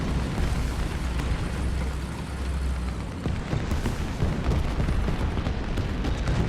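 In the War Thunder video game, an artillery strike lands in a series of deep, rumbling booms and explosive bursts that roll on continuously beneath low engine noise.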